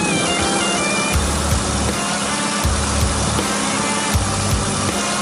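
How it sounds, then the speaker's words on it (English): A new engine runs on a cold test stand without warming up, giving a loud, steady mechanical roar with a repeating rhythmic low thump through the whole stretch. "Each new engine runs on the test stand for 4 minutes."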